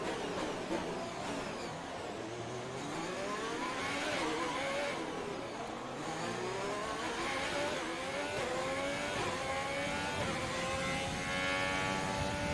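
Race car engine in a Monaco Grand Prix racing video game, loud and continuous, revving up and down through gear changes with rising and falling whine across the full stretch, no talk over it.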